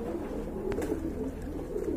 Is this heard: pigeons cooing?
yes